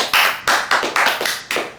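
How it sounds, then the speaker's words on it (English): Five slow, deliberate hand claps, close and loud, evenly spaced about a third of a second apart, each followed by a short room echo. "Clap, you bastard."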